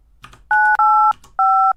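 A telephone keypad sounds three loud, clean DTMF tones in quick succession as a phone number is entered, each lasting a fraction of a second, with faint background noise between them.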